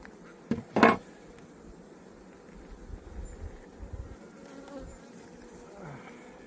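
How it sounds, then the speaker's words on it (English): Honey bees in an open, busy hive buzz in a dense, droning hum, with a couple of brief louder knocks near the start and soft wind-like rustling throughout. "Absolutely hoaching with bees."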